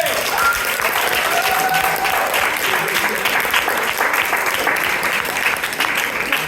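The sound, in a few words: audience applauding improv performers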